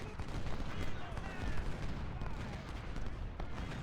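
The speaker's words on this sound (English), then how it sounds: "Our cannons were firing at something." Distant rifle volleys and cannon fire in the Civil War strategy game Ultimate General: Civil War at the Battle of Chickamauga, a dense crackling fusillade with muffled booms, continuous and moderately faint beneath a steady battlefield rumble.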